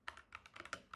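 Rapid typing on a computer keyboard during a data structures coding lesson, a quick run of soft close key clicks in an uneven rhythm with no talking.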